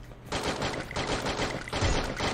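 Rapid bursts of video game gunfire crackle in quick succession during a 4v4 match, loud and dense, like automatic weapons firing continuously.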